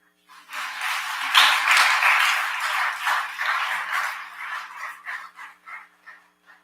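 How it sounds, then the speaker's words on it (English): An audience at the Guilford County State of the County address breaks into applause, a dense wash of clapping that swells quickly, then thins into scattered claps and fades. "That deserves a round of applause."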